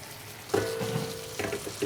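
Food frying on a stove in a home kitchen, a soft continuous sizzle with a couple of brief louder flares, close and moderate.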